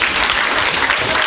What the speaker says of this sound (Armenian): բարձր ծափահարենք